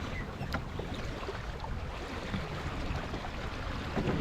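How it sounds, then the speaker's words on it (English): Water rushes steadily against the hull of a single-handed sailboat during a jibe under sail, a close, even wash with faint creaks and no talking. "Time for my last jibe of the day"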